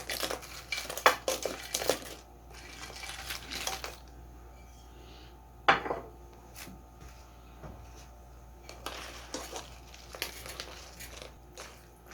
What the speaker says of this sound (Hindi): हम अपना फ्लेम ऑफ कर देंगे और अपनी फ्राई की हुई गोभी इसके अंदर ऐड कर देंगे।